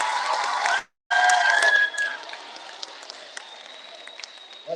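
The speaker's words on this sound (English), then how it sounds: "Give them a round of applause," Audience applause at a school assembly as a volunteer comes up, a burst of clapping that breaks off abruptly, returns briefly, then thins into sparse claps and faint room noise.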